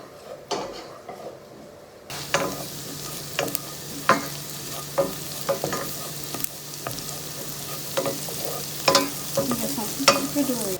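Garlic fries in a pan before chorizo goes in, a steady sizzle that grows louder after the first couple of seconds, broken by regular scraping stirs and small utensil taps.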